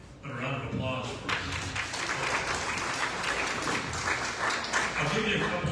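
Applause breaks out at a lunch talk, a fairly faint but sustained spread of clapping from a modest audience that swells after the first second and holds steady.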